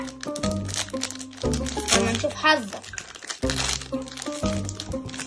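A plastic snack bag of Gafar El Omda biscuits is torn open and crinkled at close range, with brief crackling bursts mixed under lively talk.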